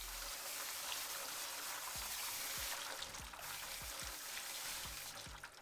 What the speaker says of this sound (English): follow that up with some garden hose action